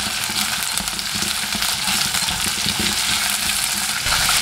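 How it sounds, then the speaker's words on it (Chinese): Chopped onion is stir-fried in hot oil with ginger and garlic in a wok, giving a loud, steady sizzle with the scrape and clatter of stirring close by, no voices. "出香味后把洋葱倒进来，同样的翻炒几下"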